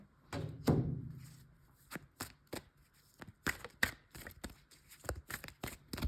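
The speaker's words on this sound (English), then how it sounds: "You always hear me shuffling the cards" A series of sharp, crisp card-like riffles and taps, spaced irregularly, with a fuller rustle near the start; close and fairly quiet, no talking.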